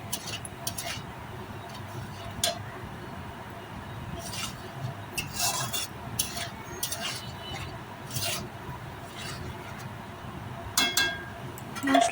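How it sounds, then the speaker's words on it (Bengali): Spices stir-fried in a pan for a vegetarian dish, a rough rasping scrape of a spatula repeated at uneven intervals over a constant low frying sizzle, with occasional light clinks. "আমি একটু কষিয়ে নিচ্ছি।"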